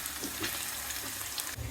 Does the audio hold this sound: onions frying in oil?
yes